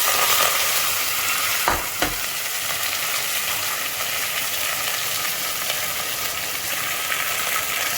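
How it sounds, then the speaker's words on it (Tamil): Onions and curry leaves with fennel seeds sizzle steadily in hot oil for a goat trotter curry, a dense continuous crackle with a couple of dull spoon knocks early on. "இந்த வெங்காயம் கருவேப்பிலையை நல்லா கிளறி விடுங்க."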